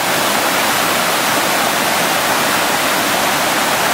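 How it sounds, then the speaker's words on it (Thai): Loud, steady roar of a rainy-season waterfall, powerful rushing water pouring continuously with no pauses. "จะเห็นว่าน้ำจากที่ลงไปค่อนข้างจะแรง"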